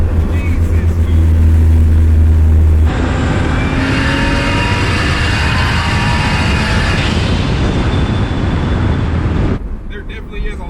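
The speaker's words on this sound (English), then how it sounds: "Of course you get that awesome blow-off sound." A 1JZ-swapped Lexus LS400 race car, heard from inside the cabin, roars loudly through the gears. A low engine drone shifts into a dense, rushing, hissy turbo and blow-off sound, and a voice talks over it.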